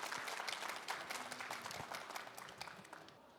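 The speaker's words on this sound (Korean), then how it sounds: "다시 한번 큰 박수 보내주시기 바랍니다" An audience applauds after a lecture at an education concert in Ulsan. The clapping is dense and steady, then slowly fades and thins toward the end.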